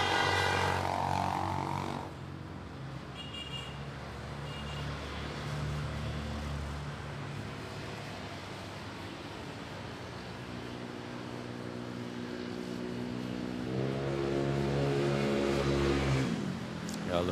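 A Scoot Airbus A321neo airliner arrives at Manila airport, its engine a low steady drone that builds gradually and swells louder near the end, heard from a distance.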